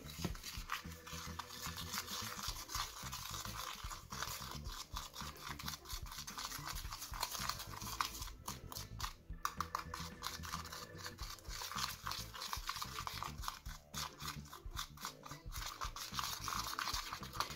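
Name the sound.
stirring slime mixture with sugar in a bowl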